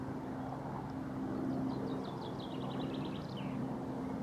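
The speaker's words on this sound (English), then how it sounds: "It's a shame that helicopter passed at exactly the same time." A steady low rumbling drone of a helicopter passing overhead on a countryside walk between Haslemere and Midhurst fills the background while a bird chirps a quick run of bright notes over it.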